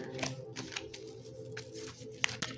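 Tarot cards shuffled by hand, heard as a run of soft riffling and tapping clicks with one sharper snap near the end, faint and close over low background noise.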